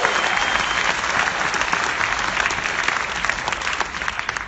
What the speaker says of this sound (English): How about a huge round of applause for our partners who've joined us on stage tonight?